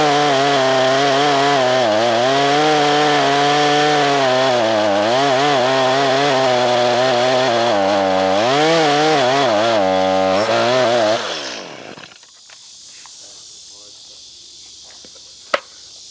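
A small Stihl chainsaw rated at 1.6 horsepower cuts through hardwood with a loud, close, strained buzzing whine that rises and dips under load, then drops to a low idle near the end.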